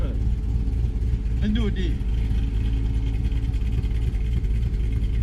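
A 2009 Pontiac G8 drones with a deep, steady engine rumble while racing a Caprice, loud and continuous inside the cabin, with people talking over it.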